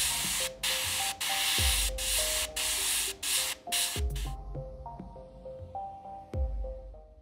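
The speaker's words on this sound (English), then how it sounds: "The final touch for this area is a coat of flat varnish." Flat varnish sprays onto a 1/72 scale plastic model kit of a Yak-23 cockpit in short hissing bursts from an airbrush or can, several quick sprays in a row, close and moderately loud, then quiet with background music.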